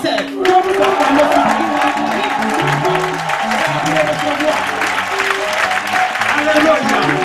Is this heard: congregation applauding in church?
yes